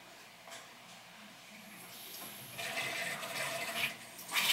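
A household toilet's water supply valve opened, sending water rushing and hissing into the tank; the flow starts quietly and swells into a steady, louder filling rush near the end, with no voices.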